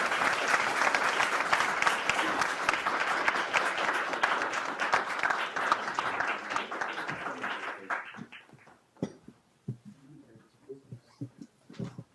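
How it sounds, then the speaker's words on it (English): Audience applause for the Chief Justice at a human rights conference, a dense sustained roar of clapping that thins out after about eight seconds into scattered individual claps. "please join me in a big round of applause for the Chief Justice"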